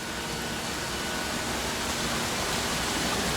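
A waterfall in the Dear Esther game roars as a steady, broad, unbroken rush, loud and constant throughout with no other clear sounds.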